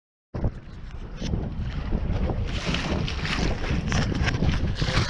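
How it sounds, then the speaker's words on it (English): Wind of about 6 knots gusting across open water near the start of whitecaps, heard as a steady loud broadband rush with microphone buffeting that swells in strength, no voices. "6 knots of wind right now. And when the wind gusts over 7, that's when we form the white caps."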